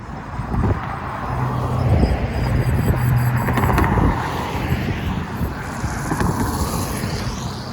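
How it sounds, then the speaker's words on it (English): Steady road traffic hum on a wintry residential street along Wellington Crescent and Academy Road in Winnipeg, broadband and continuous with some wind buffeting on the microphone, no talking. "Traffic is picking up a little."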